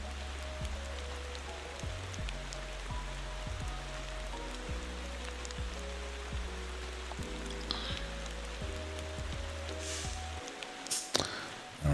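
Steady rain in the driving game Motor Town: Behind the Wheel, falling on a truck as a soft continuous patter under a low engine-like drone, with a few louder clunks near the end.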